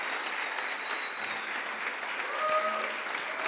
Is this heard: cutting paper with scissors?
no